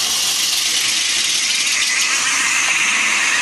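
A steady, loud whir from a melty brain spinning combat robot running on a single wheel, with a constant high-pitched motor and rattle tone that holds throughout.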